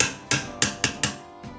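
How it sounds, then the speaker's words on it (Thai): A fan repair tool hammers a bearing pin into a Sharp 16-inch standing fan, model PJ-SL163, giving four sharp metallic taps at a steady pace and a fainter fifth, close and alone. "ตอกไกลูกปืนพัดลม"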